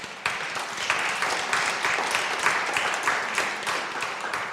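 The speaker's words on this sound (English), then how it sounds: "Can we just give them a round of applause" An audience at a panel discussion on Martin Luther King's legacy applauds the panel members, a sustained even spread of clapping starting abruptly and holding steady throughout.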